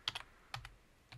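Keys on a computer keyboard being pressed, three quick clusters of light clicky taps, close and crisp against a quiet room.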